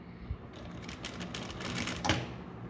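A sewing machine stitches a blouse in a short, quiet burst of rapid mechanical clatter, with faint room noise around it.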